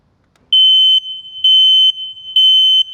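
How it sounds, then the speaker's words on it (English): A smoke detector alarm sounds three loud, piercing high-pitched beeps in a steady rhythm, each about half a second long, with no other sound. "when it sees or smells smoke, it makes a noise to help us"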